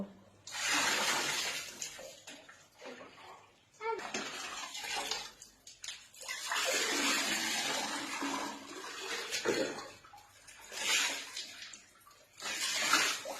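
A small child bathing while seated, water sloshing and splashing in bursts with brief pauses between, close by, with voices talking now and then.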